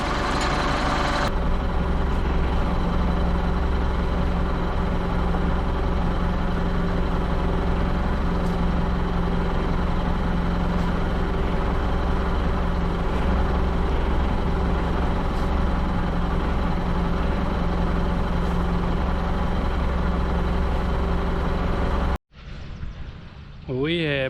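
A tractor runs at a steady drone while applying a fertilizer dose to tomato plants, its low engine hum and idle rumble continuing unbroken for about twenty seconds before cutting off abruptly.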